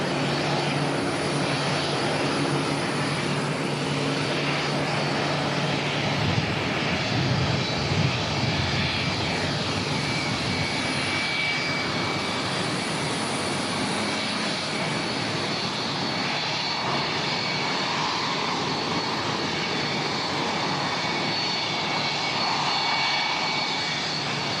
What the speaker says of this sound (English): just in time to see the former ZK OJK departing with Solomon Airlines